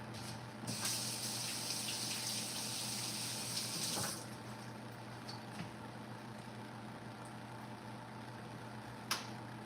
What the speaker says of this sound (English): I'm going to wash up my hands